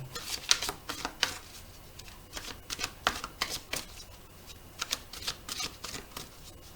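Oracle cards shuffled and cut by hand, a steady run of soft papery riffles and slaps with brief pauses between bursts, close and fairly quiet, no talking.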